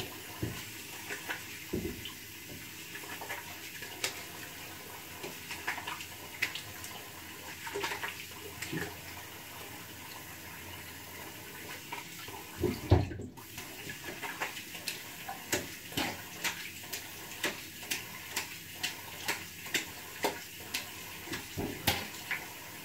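Water from a tap runs steadily while shaving cream is rinsed off a face, with irregular splashes and drips from hands scooping water, close by and without talk.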